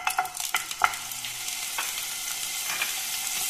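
Five or six pieces of paneer frying in heated cooking oil, a steady soft sizzle with a few sharp crackles and clinks near the start, no talking over it.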